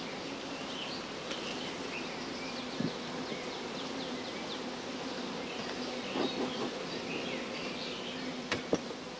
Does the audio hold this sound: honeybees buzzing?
yes